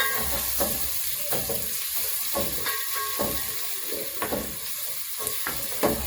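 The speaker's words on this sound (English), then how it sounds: "Then when our oil is hot enough, I will add our onions. So fry them until they are golden brown." Onions frying in hot oil for coconut beans, a steady loud sizzle with crackling pops and spits running throughout, no voices.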